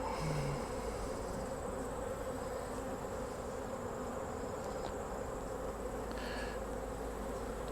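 Honey bees buzz around an open hive during early fall management, making a continuous close droning hum with occasional individual bees flying past. No one speaks.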